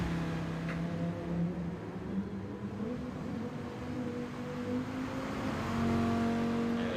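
Gr3 race car engine in Gran Turismo at Red Bull Ring, a steady droning hum held low in the revs while short shifting, with tones stepping between gears and no voices.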